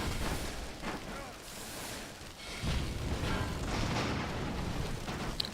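Booming rapid-fire salvos from airship cannons in the game Airships, heavy repeated blasts rolling over one another in a dense, loud barrage with little gap between shots.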